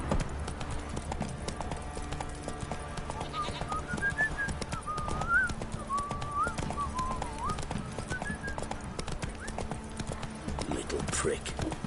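A horse gallops in the fantasy role-playing game The Witcher 3, its rapid hoofbeats drumming steadily throughout under game music and a man's occasional speech.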